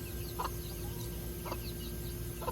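Chickens cluck in short bursts over a steady low hum, with soft chirps from chicks scattered throughout, close by and moderately loud.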